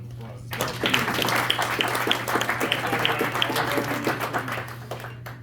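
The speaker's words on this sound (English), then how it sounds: "Let's give Trevor a round of applause as well" Applause at a school board meeting for a student named Trevor, a crowd of hands clapping steadily for several seconds with a constant low hum underneath.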